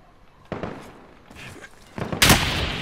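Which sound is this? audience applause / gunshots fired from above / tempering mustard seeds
gunshots fired from above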